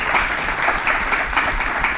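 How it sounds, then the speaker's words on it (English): Steady applause from an audience for panelists after a panel discussion, a dense wash of clapping filling the whole moment without any speech. "can we just please have a round of applause for our"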